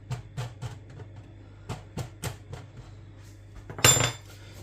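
Individual rhubarb pie tins tapped on their bottoms against a surface, a series of sharp, close metallic knocks in an uneven rhythm, followed by one louder clattering rattle.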